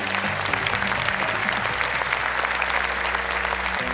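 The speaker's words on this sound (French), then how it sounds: "On peut l'applaudir bien fort." A theatre audience at a live comedy show bursts into loud, dense, continuous applause that stays strong for the whole span.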